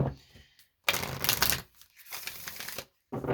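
Tarot cards are shuffled by hand in short, crisp riffling bursts, two main flurries of rapid card flicks separated by brief pauses, close and fairly quiet.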